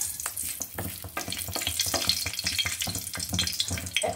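Cardamom, cinnamon sticks and small bay leaves frying in hot oil make a close, crackling sizzle, broken by sharp pops and the scrape of stirring.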